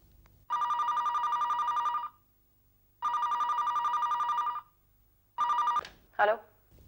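A telephone bell rings in two long, even bursts, followed by a third short ring that is cut off, with a brief voice at the end.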